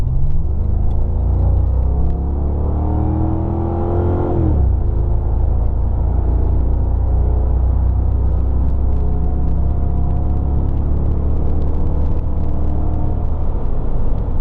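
A 2007 Mercury Grand Marquis engine drones steadily at highway speed, with a brief rising rev before settling into a constant low rumble and road hum.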